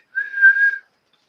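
A person whistles one steady, clear note lasting under a second to imitate a groundhog's whistle, loud and alone.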